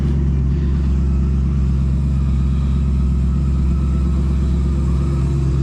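A cammed 6.0 truck rumbles steadily and loudly nearby, its deep lopey engine drone holding constant throughout with no voices over it.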